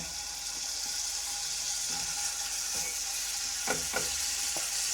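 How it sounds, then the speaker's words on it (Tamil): Marinated chicken frying in butter on a hot tawa, a steady bright sizzle throughout with a few soft clinks and scrapes near the end. "இப்போ இந்த சிக்கனை 1 மணி நேரமாக ஊற வச்சுருக்கோம்ல, இதை போட்டு நல்லா பொரித்து எடுத்துக்கிடுவோம்"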